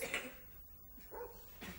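Dog named Simba, a few short barks and yips in bursts near the start, middle and end, fairly near but not loud.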